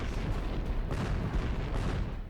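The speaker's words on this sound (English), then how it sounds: "Whoa! Explosion." Explosion from a film scene, a dense, loud burst of booming rumble that rolls on continuously for a couple of seconds with no talk over it.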